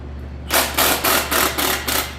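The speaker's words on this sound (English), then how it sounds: "give these a little bit more air hammer love" A pneumatic air hammer works on an abandoned Chevy 350 engine, firing in six rapid, loud bursts in a steady rhythm, each a harsh metallic rattle, close by over a low hum.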